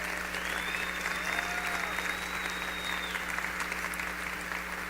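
An audience at a 10-year gala celebration applauds the founder as he comes to the stage, a sustained dense clapping from a crowd in a hall, steady throughout with a faint whistle riding above it.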